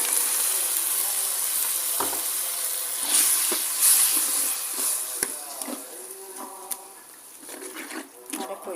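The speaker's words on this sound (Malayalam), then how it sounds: "നമ്മുടെ ഇലയൊക്കെ വഴന്ന് വരുന്നുണ്ട്" Drumstick (moringa) leaves sautéing in a pan for a homestyle curry, a steady close sizzle with scraping stir sounds and brief clinks, no talk over it.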